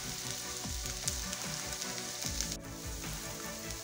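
Vegetables sautéing in a pan before garlic is added, a steady dense sizzle with rhythmic low scraping bumps from stirring, close and continuous with no talk.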